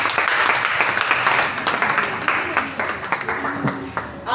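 Applause from an audience at a French-language health education session on sexually transmitted infections, a steady wash of clapping with voices mixed in over the top.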